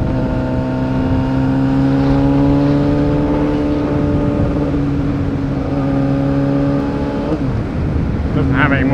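A Yamaha R6 sport motorcycle engine holds a steady, loud drone while stuck in third gear, its pitch creeping slowly upward before easing off near the end, with wind rushing throughout.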